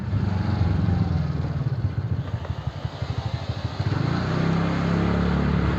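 A two-wheeler engine putters close by as it is ridden out, a steady motor drone that breaks into rhythmic chugging pulses midway before smoothing out again, loud and alone.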